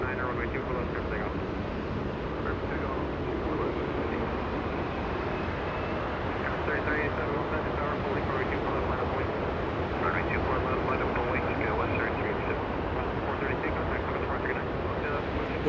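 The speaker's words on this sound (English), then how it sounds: "The one taxiing, flying to Melbourne" A Qantas Boeing 787 Dreamliner bound for Melbourne taxis at Los Angeles International Airport, its engines a constant distant whine and roar, with faint voices murmuring underneath throughout.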